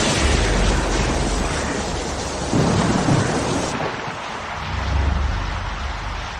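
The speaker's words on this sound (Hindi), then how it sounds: "बारिश शुरू हो रही है।" Rain begins falling at an airport while an airliner awaits pushback, a loud wash of rainfall with deep rolling rumbles of thunder that swell and fade several times.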